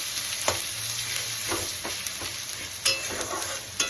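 Salt, turmeric and Kashmiri chilli powder stirred into hot oil make a continuous close sizzle, punctuated by several sharp scraping clicks of a spoon against the pan, without speech.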